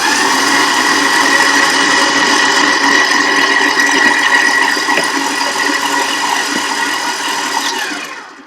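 A stand mixer kneading soft paratha roti dough at speed level 6, a loud, steady motor whine with a rhythmic churning rumble, running continuously before winding down at the end.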